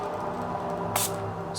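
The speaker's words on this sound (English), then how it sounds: "This is citrus spray. It's citrus sage." A single short hiss of citrus sage spray misted into the air from a spray bottle, brief and fairly soft against a quiet indoor background.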